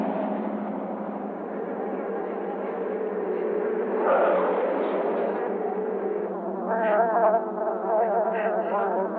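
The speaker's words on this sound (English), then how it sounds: "the bees are coming at me!" A dense swarm of bees drones continuously around a car, a loud, close buzzing that swells midway and gains sharper, higher whines toward the end.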